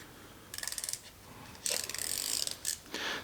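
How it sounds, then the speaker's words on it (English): A 72-tooth non-slip ratchet wrench clicking in quick fine bursts, several short runs of rapid ratcheting close up, with no talk. "This is a 72 tooth non-slip ratchet or wrench."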